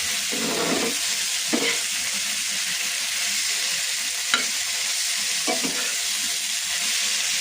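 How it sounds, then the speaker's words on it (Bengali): Green leafy vegetables frying with shrimp, chili and oil in a pan give a steady close sizzle throughout, broken by a few sharp stirring scrapes. "শাক ভাজি করতেছি"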